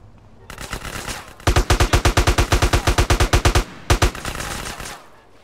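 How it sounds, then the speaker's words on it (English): Rapid automatic gunfire from the video game GTA San Andreas: a loud, sustained burst of evenly spaced shots that cuts off briefly, then resumes with a few more rounds over background game noise. "Who's shooting me?"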